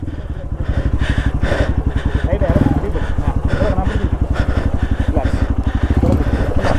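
Hero Xpulse motorcycle engine running steadily at low revs as the rider brings it to a stop on a downhill trail, a continuous throbbing putter close by and fairly loud throughout.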